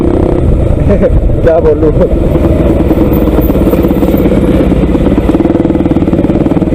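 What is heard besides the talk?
Pulsar 200 NS motorcycle engine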